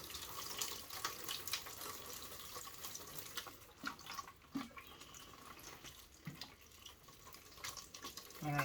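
Water splashes steadily into seedling pots and their tray in a greenhouse, a soft continuous patter with a few faint drips, heard alone at low level.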